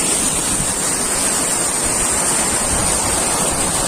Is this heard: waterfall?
yes